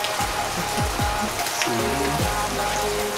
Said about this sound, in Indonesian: ini juga cuacanya hujan gini